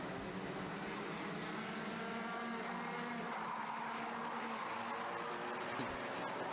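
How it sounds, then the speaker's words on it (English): Racing karts at speed during a kart race, engines buzzing loudly and continuously as one runs off the track over the grass, a steady droning roar with no break. "Kart going over the grass there, taking an interesting interpretation of track limits there."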